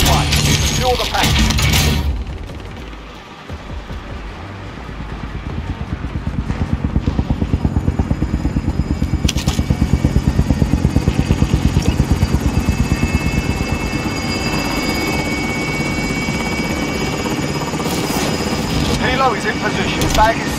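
A cash collection helicopter arriving in Call of Duty Warzone Plunder mode, its rotor thumping builds from a brief burst into a loud, steady chopping drone that holds for many seconds.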